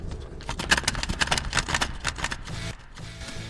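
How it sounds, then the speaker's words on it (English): Cassette tape mechanism clunking open on eject, a rapid series of mechanical clicks and rattles over about three seconds, fairly close and loud with no talking. "Does your cassette mechanism make a terrible sound like this when you open it?"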